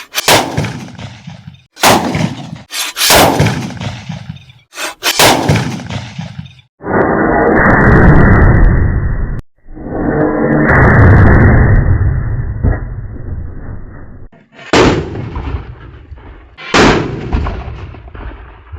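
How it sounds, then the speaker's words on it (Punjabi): A homemade two-pipe potash gun fires a series of sharp, loud, close blasts, then a long stretch of rough, roaring noise, followed by a few more booming bangs. "ਚਲੋ ਹੁਣ ਦੋ ਪੈਪਾਂ ਵਾਲੀ ਪਟਾਸ ਚਲਾਉਣੇ ਆ"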